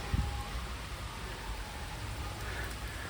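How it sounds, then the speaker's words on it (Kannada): Steady rain falls, a dense even hiss of drops with a brief low thump near the start, no voices. "ಮಳೆ ಬರ್ತಿದೆ"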